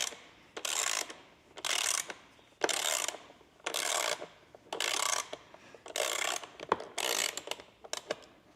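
A 3/8-inch drive ratchet works bolts loose on a KTM 85SX dirt bike. About nine rapid clicking bursts come in a regular rhythm, each roughly half a second long with brief pauses between, close and clear, with no talking.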